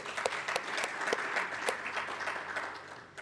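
Audience at the OFAB Rwanda Chapter launch event applauding Dr. Canisius, dense continuous clapping from many hands with some sharper individual claps, fairly loud and sustained before tapering slightly at the end.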